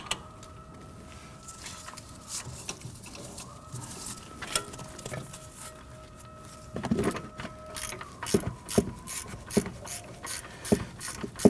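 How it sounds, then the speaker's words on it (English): A hand ratchet clicks in quick bursts while tightening a bolt on the rear suspension knuckle of a 2005-2010 Chrysler 300, close and fairly quiet, the ratcheting turning louder and more rapid toward the end. "you can pop your ratchet on that"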